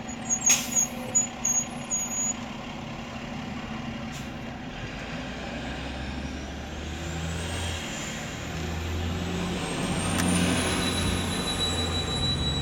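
A bus drives past at the Epcot drop-off: a low rumbling engine that grows louder as it nears, with a hiss of air and faint high squeals, and a few short knocks at the start.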